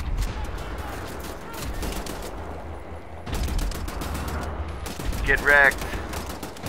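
Rapid bursts of gunfire from a newly picked-up weapon in the shooter game Wolfenstein: The New Order, loud and continuous across the stretch, with a player talking over it.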